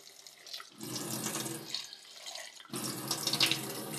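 Tap water runs into a small blender holding washed leaves, a close splashing stream that flows in two bursts with a brief pause between.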